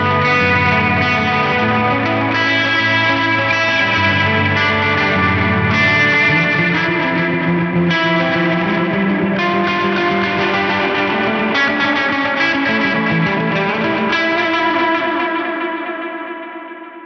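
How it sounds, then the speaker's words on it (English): Electric guitar through an effects unit with distortion, chorus and a deluxe spring reverb plays loud sustained chords and phrases, the notes ringing out and trailing off in a reverberant tail at the end. "a listen to this with maybe a spring reverb right at the end"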